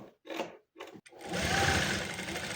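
A sewing machine hems a bubu dress. A few brief handling sounds come first, then a steady, close mechanical whirr of rapid stitching runs to the end.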